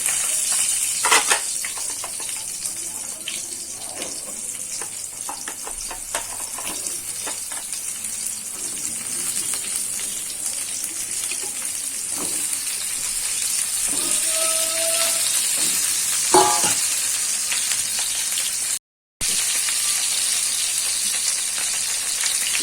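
Pointed gourd (potol) seasoned with salt and turmeric fries in hot oil with a steady, close sizzle, scattered stirring scrapes and brief dropouts, and no talk.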